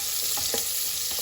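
Onions fry in a cooker for veg pulao, a close, steady sizzle with a few soft scrapes of stirring.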